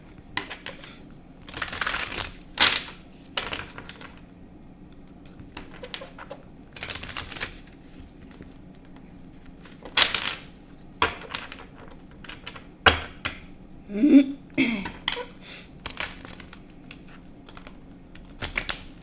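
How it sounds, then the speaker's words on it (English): Cards riffle and slap in repeated short bursts separated by quiet pauses, close by, with a brief rattle near the end. "Something's telling me to shuffle."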